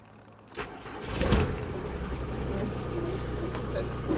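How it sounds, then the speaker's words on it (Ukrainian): A car engine cranks and catches, then settles into a steady running rumble close by. "Так, супер автомобіль запустився і чую."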